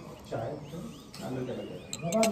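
Birds chirping around an outdoor restaurant during breakfast, a mix of bright calls and short tweets scattered over steady talk and background chatter.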